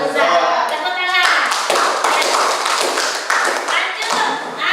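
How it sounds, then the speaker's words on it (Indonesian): Students in a classroom chemistry lesson on reduction and oxidation clap their hands together, giving a dense, loud, ragged burst of applause that continues steadily, with a brief voice at the start. "Tepuk tangan."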